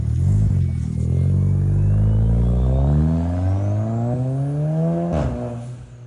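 A Golf R with a 500+ whp big turbo build and a resonator-to-downpipe exhaust revs hard. Its engine note climbs steadily in pitch, loud and close, before easing off near the end, with no talking.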